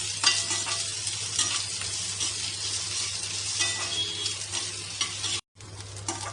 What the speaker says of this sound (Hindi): अब हम भून लेंगे प्याज। प्याज को हमें डार्क ब्राउन होने तक भूनना है